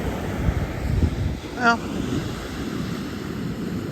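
Broadband surf and wind noise roll steadily at a South Carolina beach, with wind buffeting the microphone throughout and a brief spoken word near the start.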